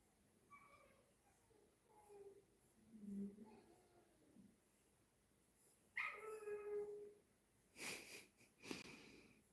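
Puppies whine in rising, wavering tones and then break into a louder howling chorus with sharp yips near the end, heard close over a quiet room.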